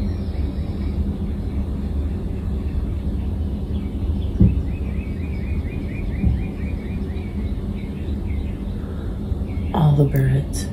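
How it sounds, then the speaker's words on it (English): Faint birds chirp and trill in repeated bursts after rain in Austin, over a steady low background rumble. "All the birds are enjoying the recent rain."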